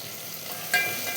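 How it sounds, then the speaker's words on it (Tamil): Tomato and onion with ginger garlic paste frying in a pan, a steady close sizzle with a brief stirring scrape partway through, no talking. "தக்காளி வெங்காயம் நல்லா வதங்கிட்டுருக்காங்க."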